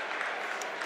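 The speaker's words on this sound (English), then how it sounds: "Gets a round of applause from the Terrier crowd" Brief burst of applause from a high school basketball crowd in a gym, a steady patter of clapping heard at moderate distance.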